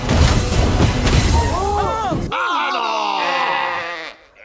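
Cartoon sheep bleat with wavering, harmonic cries, first amid busy, loud background noise and then in a longer sustained bleat near the end, all fairly close.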